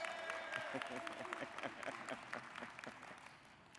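Applause at an NAACP national convention for the president of the Florida State Conference, scattered claps from a large hall, quiet and distant, with voices and tonal sounds mixed in beneath.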